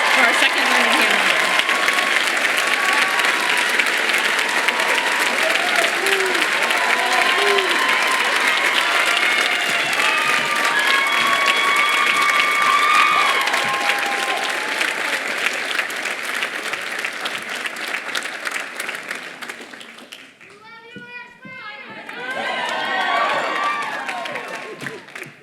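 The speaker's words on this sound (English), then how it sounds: "join me in a round of applause for our second Learned Hand member" A commencement ceremony audience applauds steadily for an award recipient walking to the stage, a broad sustained wash of clapping with some cheers that thins and dips near the end before swelling briefly again, with faint voices mixed in.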